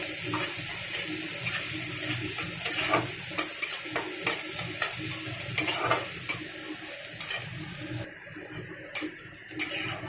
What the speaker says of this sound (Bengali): দিয়ে ফোড়নটাকে বেশ ভেজে নেব সুন্দর করে, খুব সুন্দর লাল লাল করে ভেজে নেব